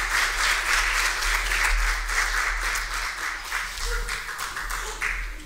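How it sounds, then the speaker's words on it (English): A Baptist church congregation gives a round of applause for the children during Sunday worship, a broad, continuous clapping with a steady low hum beneath it, fading slightly near the end. "Let's give our kids one more round of applause as they"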